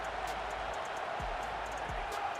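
Steady stadium crowd roar from the College Football 27 video game fills the clip at an even level, with a couple of low thuds briefly breaking through the wash.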